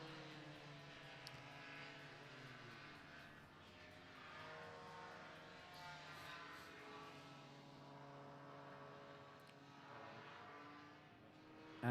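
A paramotor engine at full throttle during a slalom competition at the FAI World Paramotor Slalom Championships, a faint, distant propeller drone that rises and falls in pitch as it sweeps around a tight figure-eight course.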